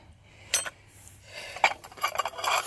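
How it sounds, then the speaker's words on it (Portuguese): Spoons and porcelain dishes made in Japan clink and rattle as they are handled and sorted from a box of discarded items, with a few sharp metallic chinks and a busier cluster of clatter toward the end. "Olha o tanto de colheres. Colheres, louça, né?"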